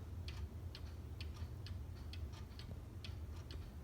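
A small antique miniature cuckoo clock ticks steadily in a quiet room, its light, even clicks coming at a regular pace, close and fairly faint with no voices.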